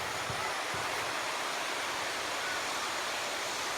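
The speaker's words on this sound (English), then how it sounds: "And here comes the wind." Wind rises around a summer hammock campsite, a steady, broad rushing hiss that stays even and moderately loud throughout, with no other sounds.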